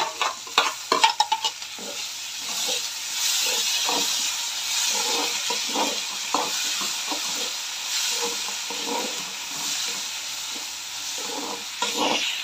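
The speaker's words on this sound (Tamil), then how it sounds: "தக்காளி வெங்காயம் எல்லாம் நல்லா வதங்கிடுச்சு" Tomatoes and onions frying together in a pan for moong dal curry, a continuous hissing sizzle with repeated stirring scrapes, close up and without speech.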